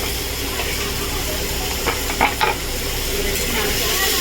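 Green chilies and chopped tomato sizzling loudly in a pan for a prawn curry, a dense continuous hiss throughout with a few brief clatters of stirring near the middle.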